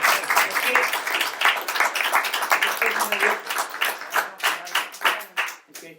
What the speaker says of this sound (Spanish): Oye, un aplauso para la...